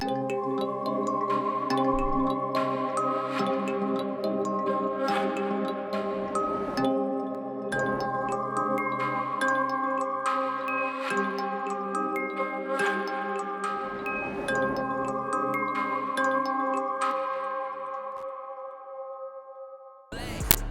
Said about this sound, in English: So with all of that, the piano, the bells, and then these ambient noises, it sounds like this.